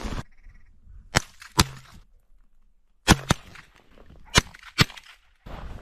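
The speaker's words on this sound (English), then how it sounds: "they'll let you shoot a lot with the 22." .22 rifle shots during an Alaskan bird hunt: six sharp, close cracks, mostly in quick pairs, separated by short quiet gaps outdoors.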